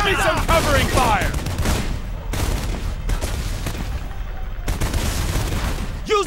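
Heavy, continuous gunfire and explosions fill a battle in the video game Homefront, with sustained automatic fire and booms up close and shouted voices mixed in.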